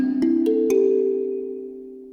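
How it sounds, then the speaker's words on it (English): A kalimba plucks a quick rising four-note jingle, each tine giving a crisp attack, with the final note left to ring and decay gently over about a second and a half. The instrument plays alone, with no talking. "Kalimba."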